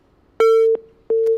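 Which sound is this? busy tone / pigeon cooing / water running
busy tone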